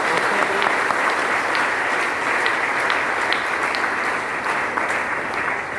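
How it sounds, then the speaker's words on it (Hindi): Loud, sustained applause from a seminar audience, dense steady clapping running unbroken throughout with no voices over it. "तो इसके लिए मैं तहे दिल से एक बार जोरदार ताली बजाना चाहूंगा।"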